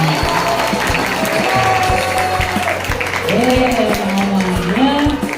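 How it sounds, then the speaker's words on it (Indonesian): Children at a Ramadan program break into a full, sustained round of applause, dense clapping filling the room while voices chatter and call out over it. "Tepuk tangan buat semuanya."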